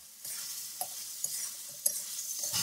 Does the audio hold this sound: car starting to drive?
no